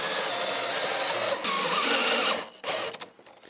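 A power driver runs steadily as screws are driven through pre-drilled holes into wooden slats of a 365-litre wood and metal compost bin, with a jig underneath as a stop; the whine lasts about two seconds, then stops and a brief final burst follows.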